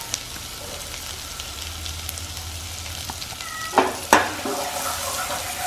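Chopped small onions frying in a frying pan give a steady low sizzle, with a couple of brief clatters of a utensil stirring near the end and no one speaking.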